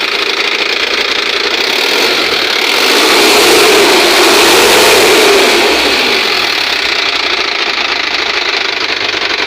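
An Isuzu 4JB1 diesel engine with a fault runs loud and close, swelling as it is revved, then its idle sags, bringing it toward a stall. The rough mechanical roar is steady, with no talking.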